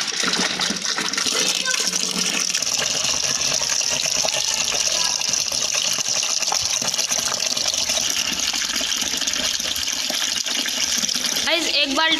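Water gushing from a tank tap into a bucket, a loud steady pouring rush lasting throughout, ending with a brief change as the flow shifts near the end.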